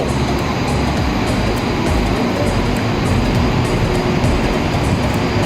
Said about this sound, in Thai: ตอนนี้รถไฟฟ้ากำลังมาพอดีครับ